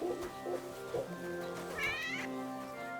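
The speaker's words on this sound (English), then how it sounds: "Wait, I saw a cat." A cat meows in the medieval role-playing game Kingdom Come: Deliverance 2, a single drawn-out, rising-and-falling cry over a steady game ambience bed.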